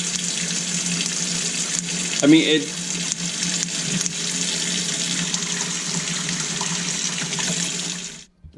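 Hot water runs steadily through a Brondell Cypress water filter push valve into a sink, a continuous hissing stream with a brief louder splash partway through, and a voice speaks briefly over it.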